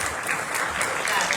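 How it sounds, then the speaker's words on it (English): An audience claps together in a steady, dense round of applause at a performing-arts show, fairly loud throughout, with voices mixed into the clapping. "can you do a big round of applause?"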